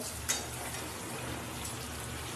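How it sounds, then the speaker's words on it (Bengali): Eggs and fuluri being sautéed in a pan give off a steady, faint sizzle with a soft clink near the start, and nobody speaks. "আর এইখানে দেখো আমি এবার ডিম আর ফুলুরিগুলো দিয়ে কষিয়ে নেব।"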